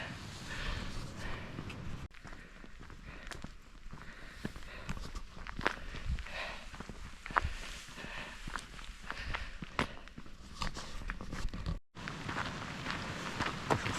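Footsteps crunch along a hiking trail near Benbulbin in Ireland, an uneven series of close steps on rough ground over soft outdoor background noise.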